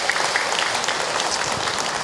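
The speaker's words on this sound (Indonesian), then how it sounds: "Tepuk tangan buat kita semua." An audience claps together, a dense burst of applause filling the room without pause.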